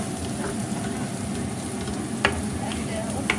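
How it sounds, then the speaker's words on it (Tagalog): Onion fries in a pan for Indonesian chicken soup, giving a steady close sizzle with occasional stirring scrapes and clicks. "Fry the onion, right?"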